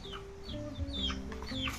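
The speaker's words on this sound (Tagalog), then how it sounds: "Ang daming manok dito, oh," Chickens clucking close by at a house in a rural barangay in Malalag, several short overlapping clucks and squawks with a faint background murmur, no clear talk.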